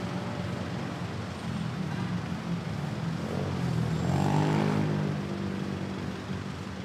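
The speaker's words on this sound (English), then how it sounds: "I just saw an aircraft takeoff at runway 3-1." An aircraft taking off from runway 31 at Manila Airport, a distant broad jet roar that swells slightly midway under steady background traffic noise, no talk.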